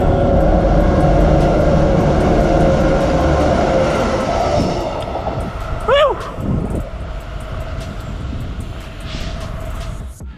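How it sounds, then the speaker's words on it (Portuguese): A train rumbles loudly past on an overhead bridge in Perth, a broad steady roar that fades after about five seconds, with a brief squeal and lighter traffic-like noise afterward. "Trem passando aqui em cima."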